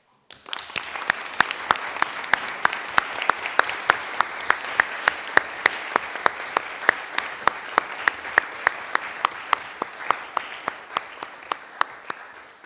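An audience applauds in memory of a colleague at a roundtable on climate neutrality and carbon pricing, a long, steady wash of clapping with distinct individual claps standing out in even rhythm throughout.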